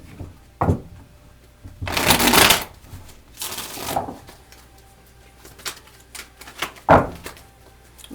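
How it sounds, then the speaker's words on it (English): Tarot cards shuffled in several bursts: a riffle near two seconds, another around four, and a short sharp flick near seven, between quieter handling rustles with no talk. "That was a bad shuffle."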